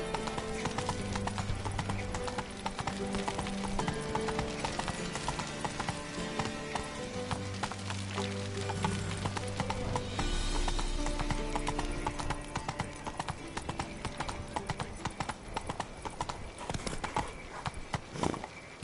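Horse hooves clip-clopping steadily while riding in The Witcher 3 on PS4, a continuous trotting rhythm under game music and ambience, with an occasional whinny.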